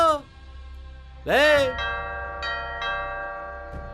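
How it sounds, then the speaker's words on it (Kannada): A bright electronic doorbell chime rings once, loud and close, followed by softer tones while a voice speaks over it. "ಇದೇನ್ ಬೆಲ್ ಸೌಂಡ್ ಕೇಳಿಸ್ತಾ ಇದೆ?"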